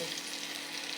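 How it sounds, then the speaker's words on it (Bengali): Browned onions fry with freshly added spices for a pabda fish bhuna, making a dense, steady sizzle, close and fairly loud, over one short moment. "এতে আমি মশলা দিয়ে কষাবো একটু"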